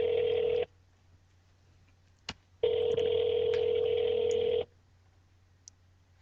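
An outgoing phone call rings on the line: two long electronic ringback tones separated by a pause and a faint click, heard close and alone.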